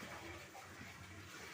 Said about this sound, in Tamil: முழுகிற அளவுக்கு தண்ணி வச்சுட்டா போதும்.